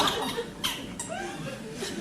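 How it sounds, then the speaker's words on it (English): Short, high squeaks and creaks from a chair, several in quick irregular succession, close and fairly quiet with a faint voice nearby. "got a bit of a squeaky chair."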